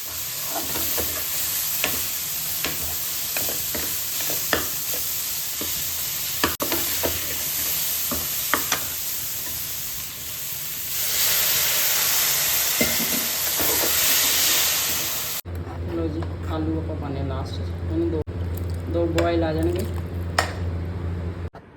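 Soya chunks (vadiyan) roasting in masala in a pan, with a steady sizzle and repeated scraping strokes of a spoon, then a louder hiss of steam near the end, under a person talking at intervals.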